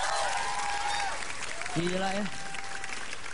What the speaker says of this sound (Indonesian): nih tepuk tangan dong.